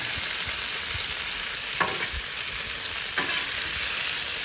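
New York strip steak frying on a Blackstone griddle, a dense, even sizzle that holds steady throughout, up close, with a couple of faint scrapes and no talking.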